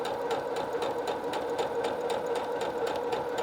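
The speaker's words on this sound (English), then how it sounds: "I have the skirt attached. I'm just going to give it a single stitch." Sewing machine stitching a skirt onto a pinafore overall dress, with a fast, even mechanical whir and rapid rhythmic ticking of the needle, close and steady with no talking.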